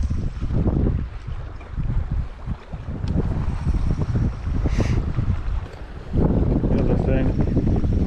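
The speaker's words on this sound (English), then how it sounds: "the wind has picked right back up" Gusty wind buffets a fishing kayak on open water in rough conditions, a loud rumbling blustery roar against the microphone that surges and eases in waves.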